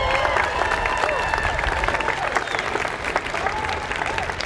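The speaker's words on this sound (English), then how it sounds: "Would you please give some of them a round of applause?" A rally crowd gives a loud round of applause for state legislators, dense clapping mixed with scattered cheers and whoops, sustained throughout.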